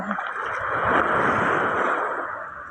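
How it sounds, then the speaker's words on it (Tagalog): Large ocean waves surge and wash in a broad, continuous roar of churning surf at Burias Island, Masbate, with no talk over it. "Ay, ang laki ng alon."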